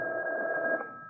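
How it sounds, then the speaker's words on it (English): A telephone rings steadily in an old-time radio mystery drama, a single continuous electronic ring tone heard clearly and alone. "a ringing telephone makes me nervous"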